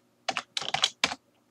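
Computer keyboard keys clack in a few quick, close clusters of taps separated by brief pauses, with no talking.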